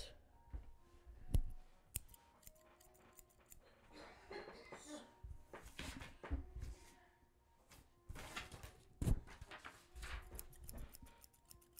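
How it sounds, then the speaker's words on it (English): Scissors snipping at close range in a quiet ASMR recording, sharp clicks and cuts arriving in irregular bursts over soft background handling noise. "Alright, let's do some scissors."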